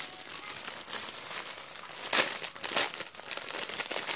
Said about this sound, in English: Sorry, it's so crinkly.